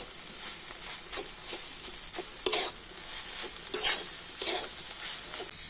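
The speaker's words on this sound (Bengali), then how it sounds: "আলু দিয়ে আবারও সব কিছু ভালো করে মিশিয়ে নেব" Boiled mashed potato being stirred into an egg dish in a pan, with soft scraping and mixing strokes and a few sharper utensil knocks against the pan over a faint steady hiss.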